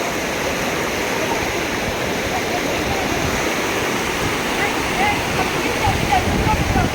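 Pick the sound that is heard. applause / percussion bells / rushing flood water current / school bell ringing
rushing flood water current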